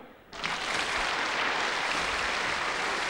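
Audience applause bursts in abruptly after a quiet moment and then holds as a steady, dense wash of many hands clapping, fairly close and even in loudness.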